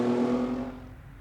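A touring-class race car, a BMW 330 CI, passes at the SCCA Runoffs with a loud droning engine that fades and recedes as it moves away, with no one talking.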